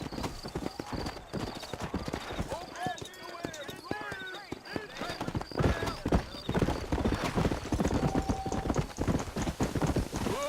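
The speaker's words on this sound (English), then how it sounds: "Caraca, o cavalo disparou, meu." Galloping horse hooves in the Western video game Red Dead Redemption, a steady rapid clip-clop running throughout under in-game character dialogue and a player talking, with an occasional horse whinny.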